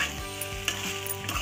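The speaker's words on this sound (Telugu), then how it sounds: "రైస్ వేసేసుకుని చక్కగా అంతా కలిసేటట్టు ఫ్రై చేసి కలుపుకుందామండి" Rice stir-fried in a pan for egg fried rice, a short burst of steady sizzling with a sharp scrape or clink partway through, close and fairly loud with no talking.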